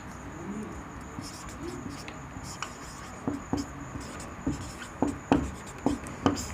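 A marker or chalk scratches and taps across a classroom board in short strokes, sharper and more frequent toward the end, while pigeons coo faintly in the background.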